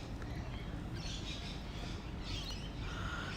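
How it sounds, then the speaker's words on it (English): Magpies call in a garden, faint bright warbling phrases drifting over a steady low outdoor rumble, a couple of short bursts a moment apart. "Listen to those gorgeous magpies."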